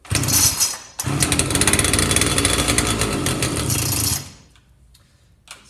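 A John Deere 300cs chainsaw engine fires and runs loud and close with a rough buzzing drone, cutting out briefly near the start, then revving steadily before dying away into near silence.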